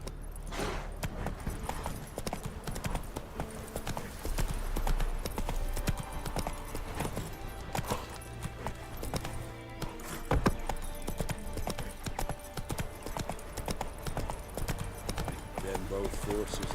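Roach, the horse in The Witcher 3 video game, gallops with a steady clip-clop of hooves under music and spoken dialogue that carry on throughout.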